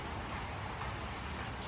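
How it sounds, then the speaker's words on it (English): Steady rain falls outdoors around a box truck RV during toolbox installation, a dense, even hiss of drops without pause across the short stretch, with no voices. "It's raining."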